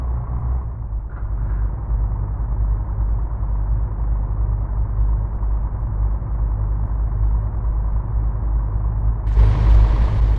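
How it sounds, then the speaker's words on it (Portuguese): A truck engine in the mobile driving game Truckers of Europe 3 drones as a steady, heavy low rumble throughout, growing brighter and louder near the end. "O som também do caminhão, ó, vou deixar vocês escutando um pouquinho o som aí"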